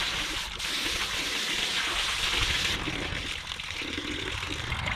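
Water drains from the tray of a DeWalt D24000S wet tile saw into a 5-gallon bucket below, a steady close trickling and splashing stream that runs continuously without talk.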